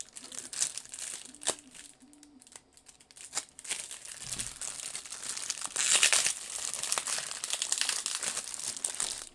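Taped plastic packaging is crinkled and torn off a new knife, a continuous close crackling and rustling that grows louder and busier toward the end.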